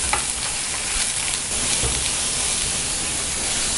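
Chopped onions sauté in hot oil in a pan for brinjal thokku, after mustard seeds and asafoetida. A steady, close sizzle and crackle runs throughout, with occasional stirring scrapes and no talking.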